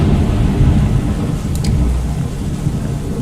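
Rain pours steadily with low rumbling thunder in a dark outdoor scene at Piccadilly Circus in the Fallout London video game, a dense continuous wash of noise throughout with no talking.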